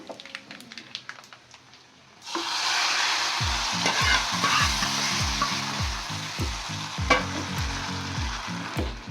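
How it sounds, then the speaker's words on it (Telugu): Lentils tipped into a sizzling tempering in a pan: after a quiet start with small clicks, a loud burst of frying hiss erupts and keeps sizzling steadily, with repeated ticking pops and spatters throughout. "దీన్ని పప్పులు వేసేస్తున్నాను."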